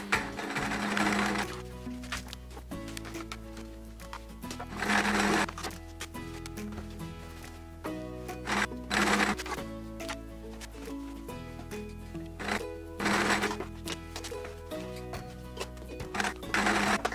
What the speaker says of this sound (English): All of these pairs of triangles need to be sewn together first to make a square